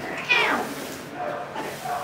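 A cat gives one clear meow near the start, close and fairly loud, and the noise trails off into quieter room sound.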